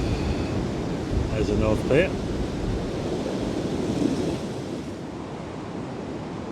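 Stormy sea surging against the sea wall at Blackpool during Storm Malik, a continuous roar of surf mixed with gusting wind noise on the microphone, while someone speaks briefly over it.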